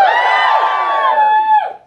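A group of women in a comedy show audience letting out a loud, sustained "woo" cheer, a bright rising whoop that holds for over a second and then drops off sharply.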